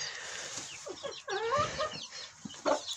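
Young chickens, a pullet among the growing brood being moved, give soft clucks and short calls close by, scattered irregularly over a low barn-like background with no talk.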